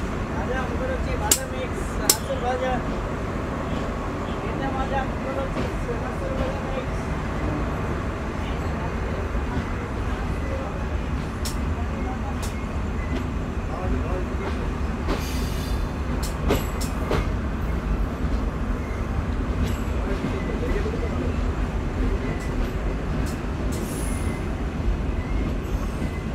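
The Shimanto Express passenger train runs at night after leaving Chuadanga station, a steady low rumble of rolling carriages heard from on board, broken by sharp metallic clicks and brief wheel squeals.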